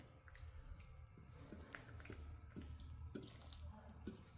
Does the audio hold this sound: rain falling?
no